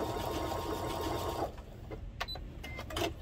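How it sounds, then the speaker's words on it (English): A sewing machine runs a short test stitch on fabric, a steady close whirring burst for about a second and a half, followed by a few softer mechanical clicks and taps. "I'm going to test out the stitch, make sure that I like the size of it."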